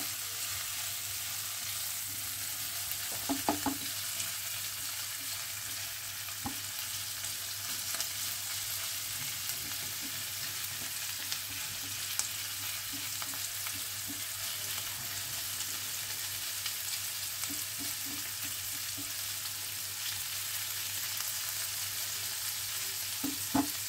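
Fish fry in hot oil in a pan, giving a steady, continuous sizzle with occasional soft pops and stirring scrapes, heard alone without talk.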